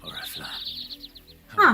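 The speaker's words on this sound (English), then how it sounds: "you could hear the birds chirping in the fields" Birds chirp in a rapid run of high, bright tweets across the grassy wheat fields of Sanbrec in Final Fantasy XVI, fairly clear over soft music, fading out before someone speaks briefly at the end.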